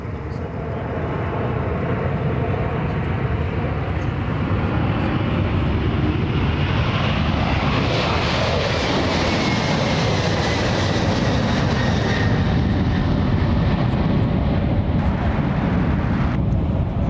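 A UPS cargo jet at Anchorage's Ted Stevens International Airport roars loudly and continuously, a broad engine rumble with a rising whine that swells and holds for the whole stretch, with no talk.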